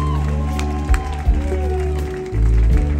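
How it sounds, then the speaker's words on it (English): Audience applause for a live stage performer at a concert, a broad wash of clapping mixed with crowd noise and cheering under loud amplified music and a voice over a PA. "a well-deserved big round of applause"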